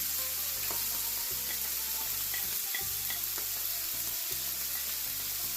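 Duck liver, gizzards and onion frying in a pan with a constant loud sizzle and occasional stirring clicks, close up and continuous without speech.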